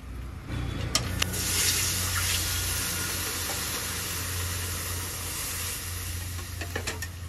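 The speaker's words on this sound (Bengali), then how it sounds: "এবার দিয়ে দেব পরিমাণ মতো জল।" Water poured into a hot pan of fried vegetables and katla fish with mete alu hisses and steams loudly, a broad continuous rush with a few sharp crackles near the start and end.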